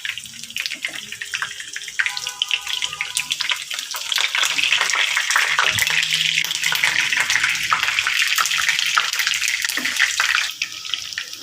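Food frying in a pan of oil in a home kitchen, a steady broadband sizzle and crackle running continuously and fairly loud throughout, with faint clinks of utensils now and then.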